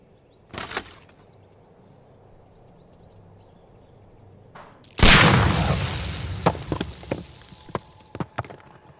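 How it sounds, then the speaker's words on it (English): In the Sherlock Holmes: Crimes & Punishments video game, a short sharp shot sounds early, then a pistol is fired at a package and a loud blast booms, followed by scattered debris clatters and thuds. "Fire at this package."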